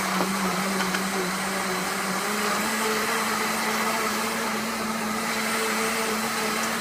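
A blender whirs continuously at high speed while making concentrated ginger juice, a loud steady drone with a slight pitch shift early on and no talking.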